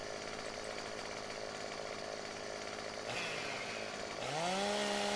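Chainsaw idling and revving steadily in Farming Simulator 2015 while cutting tree branches, a continuous loud engine drone that rises sharply in pitch twice near the end as the throttle opens.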